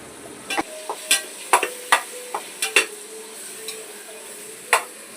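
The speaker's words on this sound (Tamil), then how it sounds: "நல்லா கிண்டி விடு." A spoon stirs chicken biryani frying in a pot, producing a string of distinct clinks and scrapes against the metal over a low sizzle.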